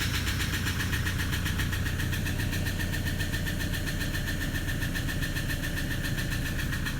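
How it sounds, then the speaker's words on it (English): Toyota Hilux 2006 engine idling cold, with a loud, steady, rapid injector tapping running continuously throughout, close and alone with no talk. "It's tapping very loudly."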